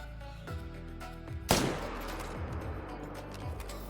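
A single loud rifle shot at a black bear in the hunting video game theHunter: Call of the Wild, sharp and sudden midway, over soft ambient background.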